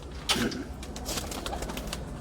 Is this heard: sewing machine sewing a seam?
no